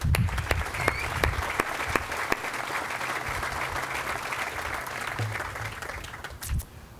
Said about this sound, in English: let's give a round of applause for everybody.